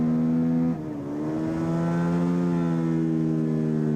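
A Suzuki SV racing motorcycle laps the Eastern Creek track, its engine note dropping on a downshift, then climbing steadily as it accelerates hard, loud and close.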